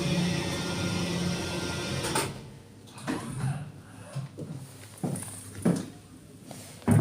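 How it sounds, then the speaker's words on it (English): Platform lift at the Museum of London Docklands running with a low motor hum, scattered clunks and knocks as it moves, fairly quiet and close with no talking. "This platform lift actually sounds like it's going."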